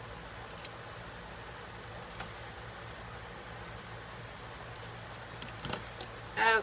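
Scissors snip off the tied ends of ribbon on a small craft project, a few quiet, sharp clicks spread over a faint room hum.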